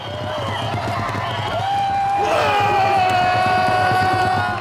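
Korean fans in Los Angeles cheer after a dramatic winning goal, a dense roar of crowd shouting and whistles that swells partway through and stays loud, with a news narrator talking over it.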